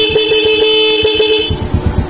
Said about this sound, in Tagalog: Lakas ng busina ni sir